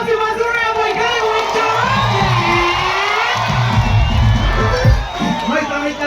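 Lively crowd at a live music performance in Kimende cheering, whooping and shouting with clapping beneath, a loud, excited mix of voices including children's high-pitched shouts sustained for about six seconds.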